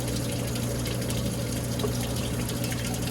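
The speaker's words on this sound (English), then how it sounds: "Spray rinse in a solid tub." Water sprays and splashes steadily inside a Philco solid-tub washing machine during a spray rinse, a dense continuous hiss with a low pump-like drone underneath, loud and close with no pauses.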